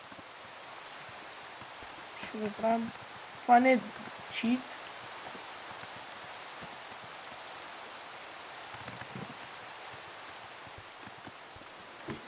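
Steady rain pattering in Minecraft, a soft continuous hiss running throughout, with a few bursts of talk over it.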